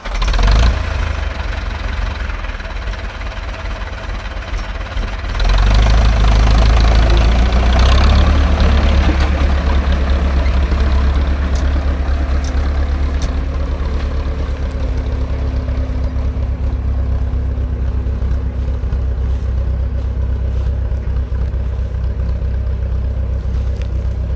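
A jeep engine idles, then revs louder about five seconds in as the vehicle pulls away. A steady, rumbling drone carries on through the rest of the clip, with no talking.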